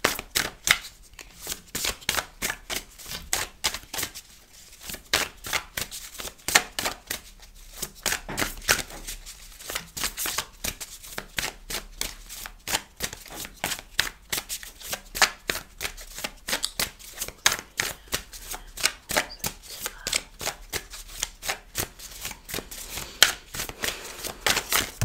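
A deck of oracle cards being shuffled close by, a long continuous run of crisp riffling and flicking strokes, dense and rhythmic, with brief pauses between bursts and no talking.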